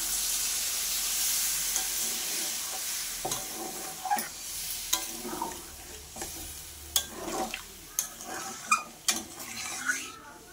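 Jackfruit curry spices sizzle and fry in a pan after water goes in, a steady hiss broken by soft clinks and stirring scrapes from a spoon, heard close with no voices.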